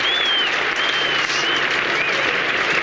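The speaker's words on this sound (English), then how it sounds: "you don't often see a 100 partnership applauded in quite such a manner" Cricket spectators applaud a 100 partnership, a dense, continuous wash of clapping from a large crowd that holds at an even level throughout, with a commentator's voice faintly over it.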